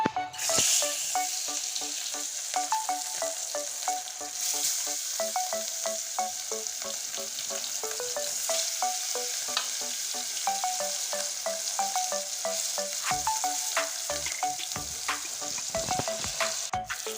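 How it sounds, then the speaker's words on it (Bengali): Fish pieces rubbed with salt and turmeric fry in hot mustard oil in a pan, a continuous close sizzle and crackle with small spattering pops and light stirring, with no talk over it. "কড়াইটা গরম হয়ে গেছে এখন আমি মাছগুলো ছেড়ে দিচ্ছি তেলে"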